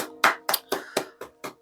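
Six sharp hand claps ring out in a quick, slightly uneven rhythm, close and clear, with nothing else heard.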